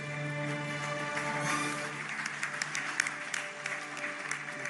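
Applause from an audience at an Indian of the Year 2022 award ceremony, a steady patter of many hands clapping, moderately faint, swelling slightly partway through alongside sustained musical tones.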